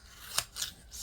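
Scissors make two or three quick, crisp snips through material while a shaker cake topper is assembled, quiet and close, with no talking.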